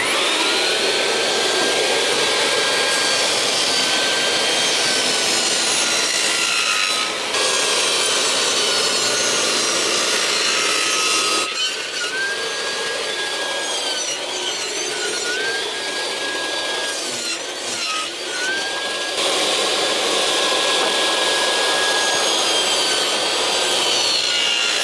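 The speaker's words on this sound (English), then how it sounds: "Again, always keep the face side against the fence and we'll run that through." A timber cladding board is fed through a saw to cut a groove: a steady whining, rasping cut runs throughout with a few brief pitch dips as the blade bites, alone without talk.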